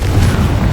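A Confringo fire spell bursting in Hogwarts Legacy, a single short, loud booming blast with heavy low rumble sustained through the moment.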